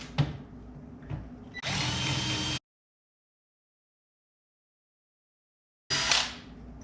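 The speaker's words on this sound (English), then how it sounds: "Drilling these barrels for lags," A power drill whirs into wooden barrels in a few short bursts, the longest about a second, followed by silence and then another brief burst.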